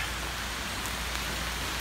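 Rain falls steadily outside, a continuous even hiss of drops on surfaces with a low rumble underneath, close and constant throughout with no voices.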